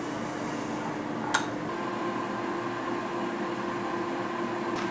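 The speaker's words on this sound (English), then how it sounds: "I'm gonna melt my butter in the microwave first." A microwave oven hums steadily while melting butter, a constant droning whir with one brief light clink partway through and no talking.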